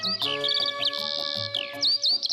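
A skylark sings a bright, continuous warbling song of rapid trills and chirps, clear and fairly close, with no voices.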